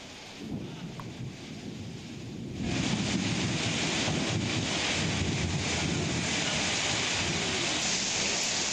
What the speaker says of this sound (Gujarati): સમગ્ર પંથકમાં ભારે પવન સાથે વરસાદ વરસી રહ્યો છે